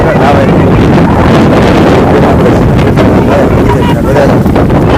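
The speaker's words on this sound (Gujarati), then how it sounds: "પવન બહુ ભયંકર છે" Strong wind blows hard on the seashore, roaring and buffeting right against the microphone in a loud, continuous rush that drowns out any surf.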